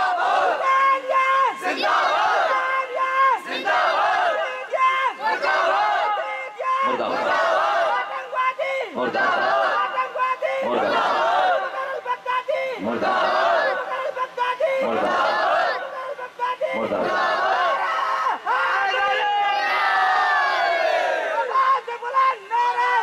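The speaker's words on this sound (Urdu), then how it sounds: "یہ جو مغل آباد کے نعرے لگ رہے ہیں یہ لگنے بھی چاہیے" A large crowd at a religious gathering chants slogans in loud, rhythmic call-and-response bursts, with a leading voice and massed shouts repeating for the whole stretch.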